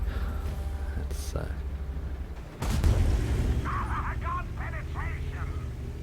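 Tank gun firing a shot in World of Tanks from a Jagdtiger, one heavy boom landing mid-clip over a low engine rumble, followed by sustained rumbling, with a player talking over it.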